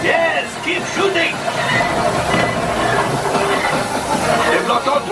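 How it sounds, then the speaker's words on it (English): A rumbling, hissing train passes during the Millennium Falcon: Smugglers Run simulator ride at Walt Disney World, under steady game sound effects and people talking. "Oh, there's the train."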